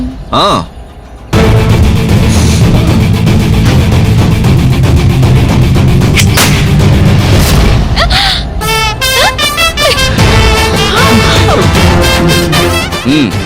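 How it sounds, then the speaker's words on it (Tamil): Gunshots ring out in a dramatic Tamil TV serial scene during a shooting contest, with loud booming bursts over a dense background score, and dialogue spoken around them. "ரோஜா, நீயே சுடு ஃபர்ஸ்ட்."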